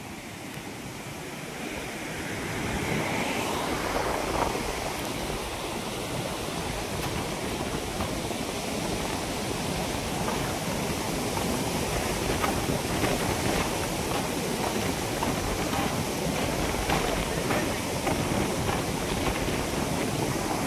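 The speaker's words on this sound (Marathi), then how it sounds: "असलं तुडुंब वाहतं, इतका याचा आवाज म्हणजे इतका डेंजर येतो ना" The flooded Maan river at Wadegaon near Sangola roars in full spate, a loud, continuous, dense rush of water with no talk, rising slightly in the first seconds and then holding steady.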